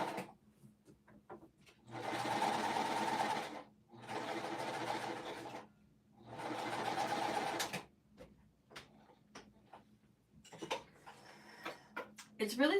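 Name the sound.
sewing machine stitching jelly roll quilt strips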